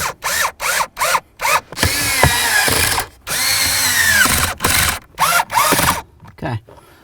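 A power drill drives mounting bolts into plastic while installing a blower motor on a 2005–2016 Ford Mustang, in repeated short whirring bursts with a couple of longer sustained runs, close and loud, with no talk.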